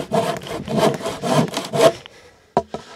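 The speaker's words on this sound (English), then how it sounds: "A little light sanding on the driveway." Several quick rasping back-and-forth sanding strokes on a wooden raised-bed board outdoors on a driveway, close and clear, then a pause and two short final rubs.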